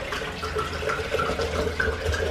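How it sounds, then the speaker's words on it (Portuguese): Ice-cold water pours steadily into a blender for a couple of seconds, a continuous splashing rush at close range. "Vou colocar também um litro de água gelada."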